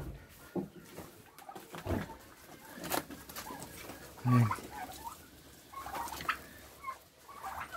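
Turkeys running around in a circle while feeding, giving scattered gobbles and clucks at varying distances, with one louder call in the middle, over soft background rustling and no talk.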